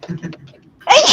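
A single sharp, close sneeze bursts out right after a person speaks briefly.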